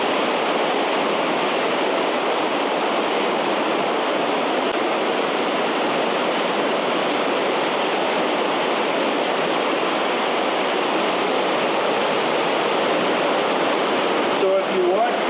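Loud, constant rushing water roars without a break through a gorge in Switzerland, a dense and steady wash of sound.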